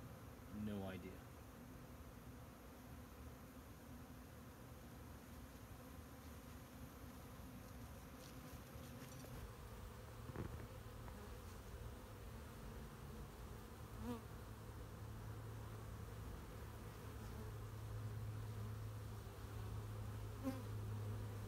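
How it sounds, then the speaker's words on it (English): A honeybee swarm taking over another colony hums in a dense, continuous buzz for the full stretch, steady and close, with single bees flying past the mic now and then. "This is a swarm of bees"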